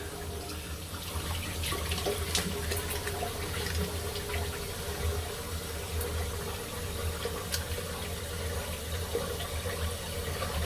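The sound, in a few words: water running from tap while rinsing after shave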